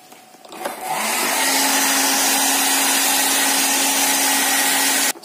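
A hair dryer switches on and roars steadily as it blows on a wet, opened-up TV remote, a loud, close whooshing hiss with a constant whine that holds until it cuts off at the end.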